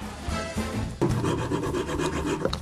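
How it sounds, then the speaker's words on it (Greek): A kitchen knife cuts cheese into slices, making close, loud rasping and scraping strokes with a sharp onset partway through, and no one talks. "Κόβουμε το τυρί σε φέτες."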